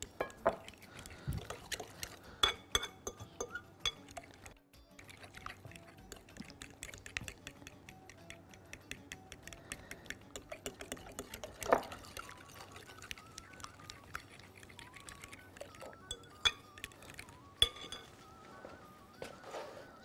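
Apple custard mixture with eggs, cinnamon and vanilla is stirred in a glass dish, giving soft liquid swishes and frequent small clinks of a utensil against the glass, steady and close throughout.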